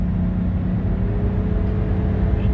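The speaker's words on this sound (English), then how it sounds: "I don't know if you can hear the video of the engine roaring, but we are now at 70 mile an hour" A 1989 Mercedes-Benz 560 SEL cruises at about 70 mph, its engine a deep continuous roar blended with road and wind noise inside the cabin.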